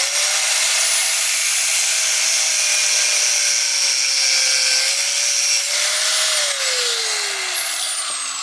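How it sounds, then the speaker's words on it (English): A power drill bores into a broken car battery terminal bolt with a loud, continuous whine, its pitch sliding slightly up and down as the bit grinds through the metal, close and alone. "We're going to take a drill bit, and drill this out as best we can."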